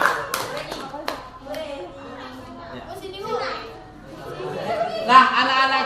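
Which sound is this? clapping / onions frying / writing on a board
clapping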